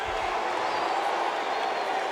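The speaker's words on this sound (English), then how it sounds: "Well, nice round of applause for Sam Houston." A wrestling arena crowd applauds Sam Houston in a steady, broad wash of clapping and crowd noise.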